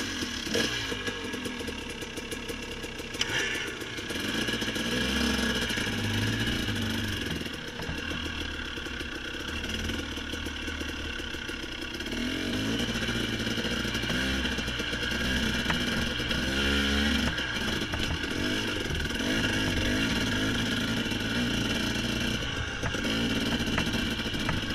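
A dirt bike engine on a steep hill, droning steadily at mid distance and rising and falling as the rider works the throttle, with no talking.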